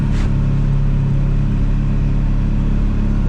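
A car drives along steadily, its engine and road rumble loud and constant from inside the vehicle, with no talk.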